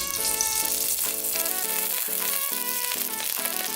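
Coconut oil heating in a pan gives a steady, even sizzle alongside soft background music with sustained tones, no voices, all at a fairly constant level.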